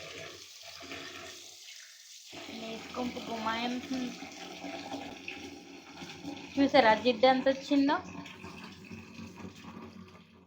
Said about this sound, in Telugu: ఇలా షింక్లో పెట్టి ట్యాప్ ఇప్పాలి